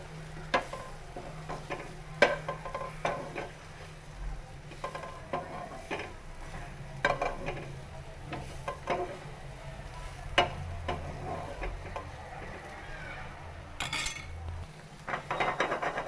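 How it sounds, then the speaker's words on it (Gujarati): Soybean chunks being stirred and roasted in a pan, with repeated scraping and clinking of a utensil against the metal over a low sizzle, close and steady without talk. "હવે તેની અંદર બધી સોયાબીન વડી નાખી દેવાની છે અને તેને સારી રીતે શેકી લેવાનું છે."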